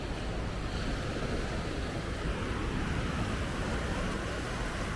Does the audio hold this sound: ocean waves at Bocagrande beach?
yes